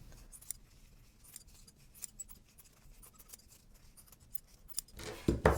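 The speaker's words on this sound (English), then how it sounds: "I'm gonna go ahead and trim off this excess that is sticking up over top of my pin line." Scissors snip excess fabric off a no-sew quilted angel ornament: a string of quiet, close, crisp cuts, ending in a louder burst of snipping and rustling.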